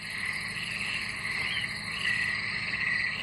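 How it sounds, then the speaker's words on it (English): Dense chorus of croaking frogs and chirping insects fills a steady night soundscape in a coastal wetland, continuous and fairly loud with no voices. "That's the sound of a coastal wetland."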